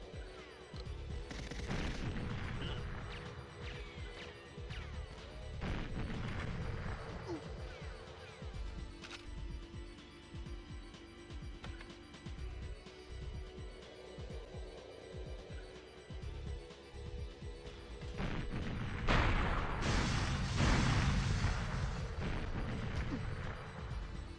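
Grenade blasts and gunfire in the Xbox GoldenEye video game, with repeated loud booming bursts and a heavier explosion near the end over continuous battle noise.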